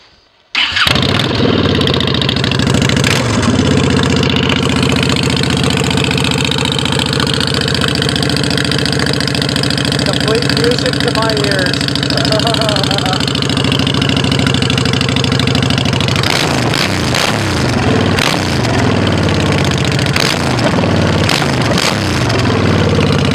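A Honda Shadow Phantom motorcycle fitted with Vance & Hines Short Shots exhaust starts up and idles loudly with a deep, throbbing, uneven rumble, then blips the throttle in a few rough revs near the end.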